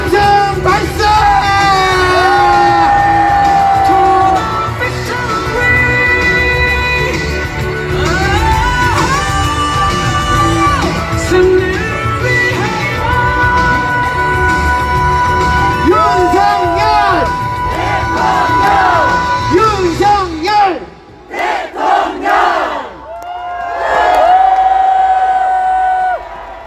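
A crowd at a Korean political rally against a presidential impeachment cheers and shouts loudly and continuously, with whoops and yells in a dense roar that briefly drops and then swells again near the end.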